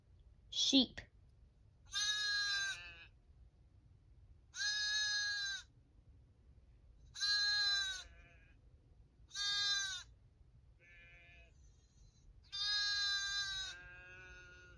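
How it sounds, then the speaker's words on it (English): Sheep bleating in six separate calls, each about a second long, spaced a couple of seconds apart, close and clear over a quiet low hum. "Sheep."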